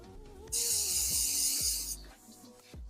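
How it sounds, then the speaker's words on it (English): A single continuous hiss of hairspray from an aerosol can sprays onto a styled bridal wig on a canvas head, close and steady for about a second and a half before cutting off. "I'm going to spray it."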